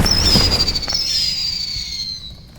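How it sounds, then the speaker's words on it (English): Fireworks go off in a video game as a reward for opening a box, with a bright whistling burst that fades into a crackling tail, loud and close, with no talking. "Wow, I even got fireworks."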